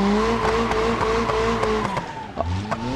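A car drifts across an ice track in BeamNG.Drive, its engine droning steadily with rising and falling revs while tires scrape and skid, ending in a few rough knocks and bumps.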